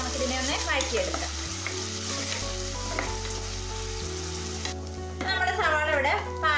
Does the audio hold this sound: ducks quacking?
no